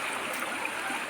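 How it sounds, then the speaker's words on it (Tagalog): A river full of large rocks rushes in a dense, steady broadband wash, close and even throughout, with no voices over it. "Ito yung ilog, mga master."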